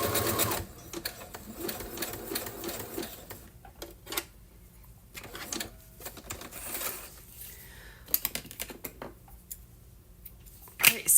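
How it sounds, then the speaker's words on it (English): A sewing machine stitches vintage fabric embellishments onto a strip of craft paper, giving quiet bursts of rapid mechanical clatter broken by short pauses and small clicks in a calm indoor room. "I'm just stitching them to that strip of craft paper"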